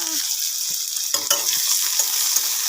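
Onions frying in hot oil in a kadai, a bright continuous sizzle and hiss with a few close scraping clatters of stirring.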